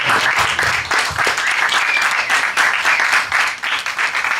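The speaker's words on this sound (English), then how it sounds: "So let's give them a round of applause." Audience at a tribal council candidates forum clapping for the candidates, a sustained, lively round of applause from a sizable room, holding steady with a slight dip before picking back up.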